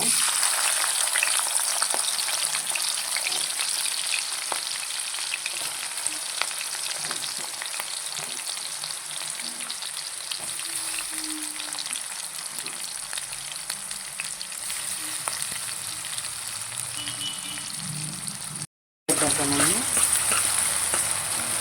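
Cumin seeds and green chilies fry in oil in a pan for a curry, a steady close sizzle with occasional stirring scrapes and brief faint speech.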